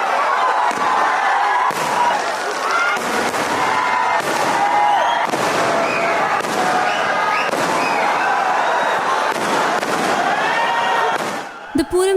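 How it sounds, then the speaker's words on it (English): A sample fireworks display at the Thrissur Pooram festival, heard as a continuous loud barrage of exploding firecrackers and booming bursts in rapid succession, with crowd noise underneath before it cuts off abruptly at the end. "people started coming to the place in large numbers, especially those who love watching fireworks explode in the sky"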